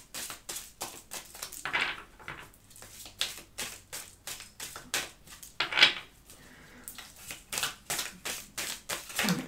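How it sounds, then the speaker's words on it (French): Tarot cards are shuffled by hand close up, giving a steady run of soft, rapid riffling flutters and card slaps with brief pauses, quiet and with no one speaking. "Je remélange"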